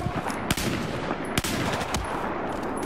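Rapid automatic gunfire in the video game Battlefield 4 rattles continuously and loudly, with a couple of sharper heavy shots standing out.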